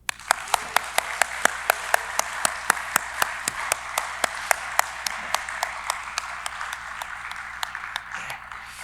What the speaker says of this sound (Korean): 우리 형제님들만 우리 한번 감사의 박수 한번 할까요?